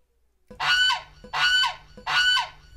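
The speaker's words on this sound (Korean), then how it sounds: "시끄러운 울음소리로 귀를 아프게 하고 차도를 무단횡단하고 자신을 도와주려는 사람한테도 달려드는 조류계의 갱스터 거위" A goose honks three times in a row, loud, harsh and close, with evenly spaced calls and no talking.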